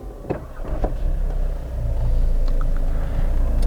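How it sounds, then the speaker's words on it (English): A 2020 Volkswagen Golf 8 Style is started by push button: a few faint clicks, then the engine catches and settles into a steady, rising low rumble heard from inside the car. "let's start with starting the car with this button"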